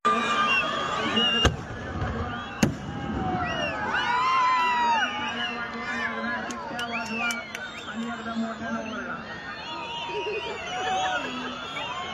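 Fireworks bursting at a temple festival finale in Barshi, with a couple of sharp distant bangs and crackles over a steady, noisy crowd hubbub and whistling.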